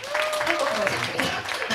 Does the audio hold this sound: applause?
yes